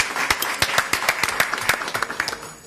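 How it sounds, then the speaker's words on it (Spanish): Applause from an audience at a presentation, a small group clapping in close, crisp individual claps that thin out and fade over a few seconds. "8 por Lobería, aplausos."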